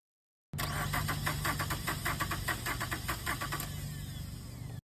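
A car engine cranks on its starter during a starter voltage drop test, a rapid rhythmic churning that begins abruptly after a brief silence and keeps going, loud and close.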